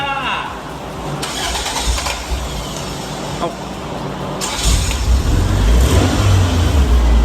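People talk as a Toyota AE86 engine cranks briefly with a distinctive starter sound, then fires up and runs close by with a deep rumble and light revving.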